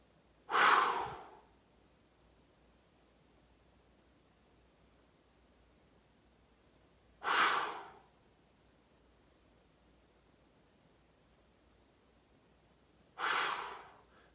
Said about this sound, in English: On the exhale, I'd like it to be a fairly forceful exhale through your mouth.